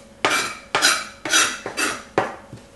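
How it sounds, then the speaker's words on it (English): Kitchen knife chopping smoked wahoo fish on a board, five sharp close knocks at an even, unhurried pace, each followed by a brief scraping rustle. "And we're just gonna chop it up."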